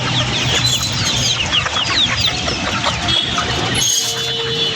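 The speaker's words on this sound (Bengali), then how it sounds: "বিভিন্ন আইটেমের মুরগি আছে" Many chickens cluck and squawk together at a busy poultry market in Dhaka, a dense, continuous chatter of overlapping calls filling the space close around.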